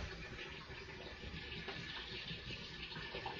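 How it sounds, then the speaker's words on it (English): Continuous gushing of warm tap water pouring into a glass demijohn, steady and fairly loud throughout, with no voices. "And then top it up with warm water."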